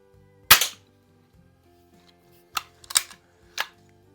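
An air gun fires across a garage at a can target: one sharp crack, then several quieter snaps and clicks of the pellet striking, in an otherwise quiet space with a faint hum underneath.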